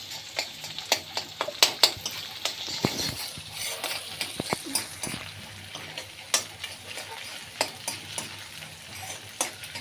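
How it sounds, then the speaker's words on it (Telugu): Egg podi masala being stirred and mixed in a pan, a spoon scraping and clinking against the metal in an uneven rhythm of scattered knocks over a soft, steady sizzle. "మిక్స్ బాగా మిక్స్ అయితే చేసుకోవాలి"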